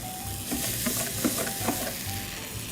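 Dried elderberries with a splash of red wine vinegar sizzle steadily in a hot pan, a continuous close frying hiss with faint stirring clinks, no voices.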